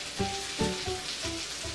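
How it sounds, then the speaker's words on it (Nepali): Pre-boiled goat lung pieces fry in a pan with a soft, close sizzle, broken by several light clinks and scrapes as the pieces are turned. "यसलाई उल्टाइ पल्टाइ हेर्दै फ्राई गर्नुपर्छ"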